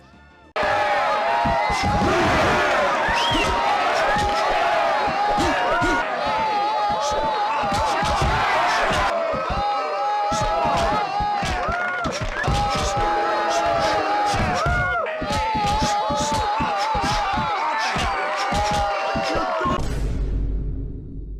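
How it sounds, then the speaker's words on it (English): Video game crowd from Rocky boxing on PS2, a dense, continuous roar of yelling, whoops and cheering with slaps and thuds from the ring, loud throughout for about twenty seconds before cutting off abruptly. "the worst part by far are the early crowd noises"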